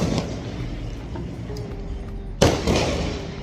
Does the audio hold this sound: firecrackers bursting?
yes